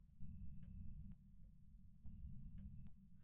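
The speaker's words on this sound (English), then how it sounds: "you can hear how much the crickets are muffled when I turn it on" Crickets chirp in the video game Phasmophobia, steady high trilling pulses in a soft, muffled night ambience over a dull low rumble.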